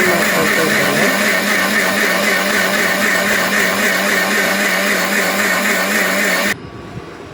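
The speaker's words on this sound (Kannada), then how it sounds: "ಉಪ್ಪು ಹಾಗೆ ಮಿಕ್ಸ್ ಮಾಡಿ ಗ್ರೈಂಡ್ ಮಾಡ್ಕೊಳ್ತಾ ಇದ್ದೇನೆ" A mixer grinder whirs loudly and steadily as it grinds soaked rice with water and salt into batter, then cuts off abruptly, leaving quiet background.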